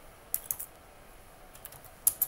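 Keys tapped on a computer keyboard while setting a rotation value in After Effects, a few quiet separate clicks with gaps between them, two early and two near the end, with no talk.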